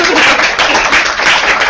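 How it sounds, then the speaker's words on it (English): A live audience breaks into clapping at a stress-relief street show, dense steady applause filling the whole moment, fairly loud and close with no talk over it. "You should clap now."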